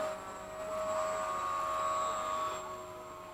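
An E-flite 80mm F-4 RC jet flies past a field after sunset: a thin electric ducted-fan whine with steady tones swells, holds, then slowly fades, fairly distant.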